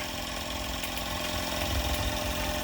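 Rocking Whale RW-BL1K live steam engine kit running on its boiler in a first test, a close, continuous mechanical chuffing and rattling hum with a steady rhythm and no voices.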